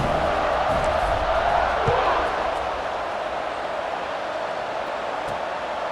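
Steady roar of a stadium crowd in EA Sports College Football 26, building before a kickoff after a touchdown; broad sustained cheering at a constant loud level throughout, with a slight swell near the two-second mark.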